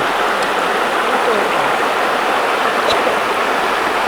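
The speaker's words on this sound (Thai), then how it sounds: "นี่ดูน้ำใสมากเลยแชมป์" Clear stream water flows at a campsite in Suan Phueng, giving a steady, loud, close rushing wash that holds without a break.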